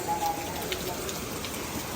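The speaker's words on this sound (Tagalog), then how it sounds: "Oh, lakas ng ulan, no?" Heavy rain pours steadily, a dense continuous hiss of drops hitting surfaces with no pauses.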